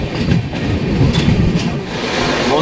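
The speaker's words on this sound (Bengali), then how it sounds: "আমাদের ট্রেনটি এখন কিষানগঞ্জ থেকে রওনা দিল" The Darjeeling Mail passenger train rolls along rails after leaving Kishanganj, a loud, close, steady rumble with faint rhythmic clatter from the wheels.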